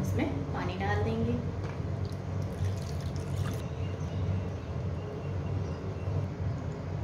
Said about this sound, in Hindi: दही डालने के बाद हम इसमें पानी डाल देंगे